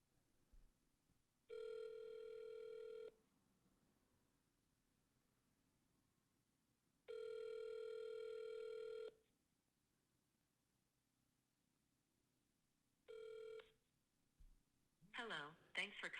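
A telephone rings after an Amazon Connect contact-centre number is dialled, sounding three separate tonal rings at wide intervals over a quiet line. A short burst of talk follows at the end.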